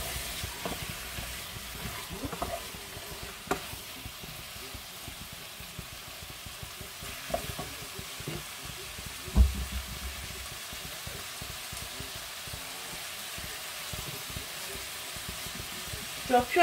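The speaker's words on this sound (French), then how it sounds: "nous faisons revenir nos morceaux de viande. Hop, dans les oignons" Chunks of meat browning in a pan with onions make a soft, close sizzle with scattered light clatters and a few sharper knocks, steady throughout.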